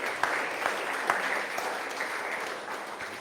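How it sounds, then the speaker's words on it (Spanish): A church congregation clapping together during a sermon as an offering of applause to Jesus, a steady sustained patter of many hands with a few sharper claps, somewhat roomy. "Dale una ofrenda de palmas a Jesús."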